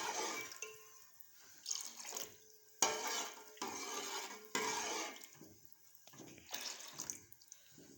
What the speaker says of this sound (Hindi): अब ये आधा कप सिरके का थोड़ा थोड़ा करके इसमें डालूंगी।